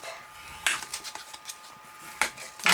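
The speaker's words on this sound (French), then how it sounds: "on prend son plioir, voilà, qui s'était caché, et on marque bien ses plis" A bone folder is pressed and drawn along folds in a paper card, producing a few quiet scraping and tapping strokes with sharper clicks near the start and end, close and otherwise hushed.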